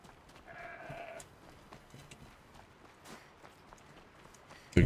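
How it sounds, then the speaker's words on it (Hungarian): A goat lets out one drawn-out bleat of moderate loudness, followed by scattered faint taps and a sudden loud burst right at the end. "Kecske."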